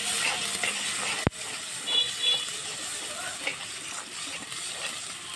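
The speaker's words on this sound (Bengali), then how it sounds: "এখন আমি সবগুলো উপকরণ 5 মিনিটের জন্য কষিয়ে নেব।" Whole spices with ginger and garlic paste sauté in a pan for a village-style banana flower curry, a steady close sizzle with faint stirring scrapes and one sharp clack near the start.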